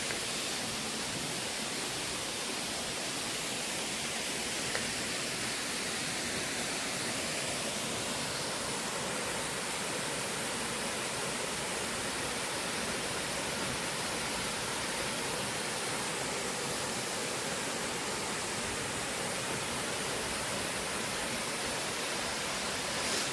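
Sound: Jaein waterfall rushing water

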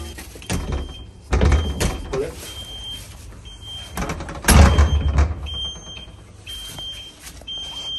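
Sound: door of an abandoned nightclub being tried and opened

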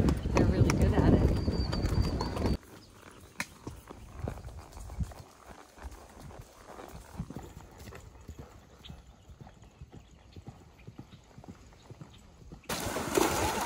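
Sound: horse hooves clip-clopping

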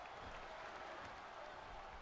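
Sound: crowd applause in the WWE 13 video game

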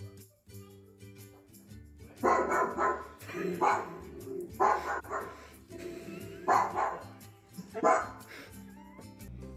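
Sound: dog barking

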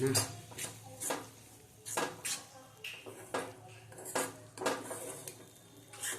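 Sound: stirring green turmeric chutney in a pan

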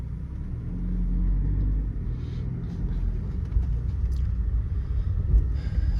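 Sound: Mercedes-Benz W201 five-speed car driving

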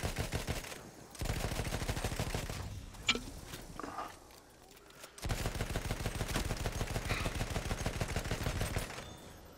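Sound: gunfire in video game Battlefield 1

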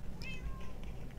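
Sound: cat meowing in Minecraft video game

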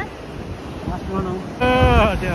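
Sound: ocean waves and wind at Marina Beach, Chennai

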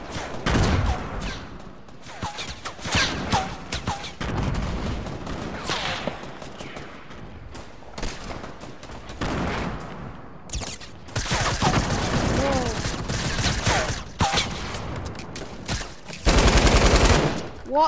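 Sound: gunfire

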